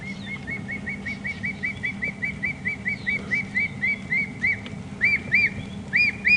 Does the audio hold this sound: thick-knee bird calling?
yes